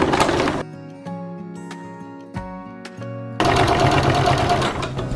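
A sewing machine stitches down a folded denim jean hem in two steady, close runs with a pause of lighter handling in between.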